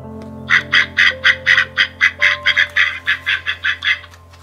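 A male mallard duck gives a rapid run of about fifteen raspy, nasal quacks in steady rhythm, close and fairly loud over a faint low hum.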